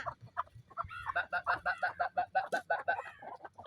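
Several chickens cluck in rapid, overlapping bursts nearby, a busy, throaty chatter rising and falling over a few seconds.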